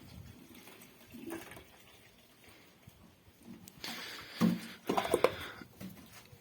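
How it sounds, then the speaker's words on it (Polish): Water splashes and trickles in short bursts, poured into a rabbits' water container close by, with quieter rustling and handling noises before it. "Jeszcze tutaj dolejemy wody."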